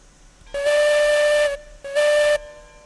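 Steam locomotive whistle in the train game RailRoads Online, two loud sustained blasts, the first about a second long and the second shorter after a brief gap, with a breathy hiss over a clear steady tone.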